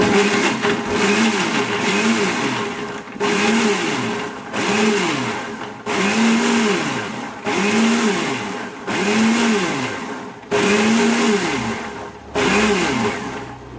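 A mixer grinder blends sathukodi juice in repeated pulse bursts, eight loud whirring runs each about a second long with a pitch that rises and falls, separated by brief pauses.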